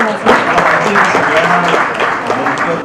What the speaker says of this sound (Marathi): जोरदार टाळ्या आपण एका सरांसाठी